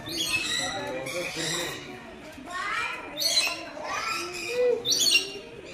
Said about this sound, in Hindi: तो ये कलरफुल पैरेट दिखा रहे हैं, अलग अलग देशों के